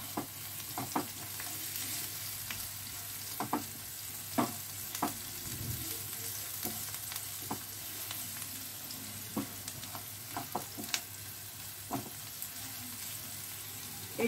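Green chillies and garlic powder frying in a pan for chicken jalfrezi, a steady close sizzle with regular sharp scrapes and taps of a spatula stirring throughout.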